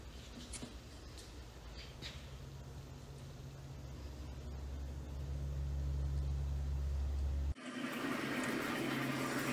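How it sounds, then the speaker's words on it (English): Water draining from the tank of a ShopSabre CNC plasma cutting water table through a drain at the back, a steady rushing flow that swells louder before an abrupt cut and a brighter, splashier continuation. "right at the moment I'm just draining all the water out of my tank"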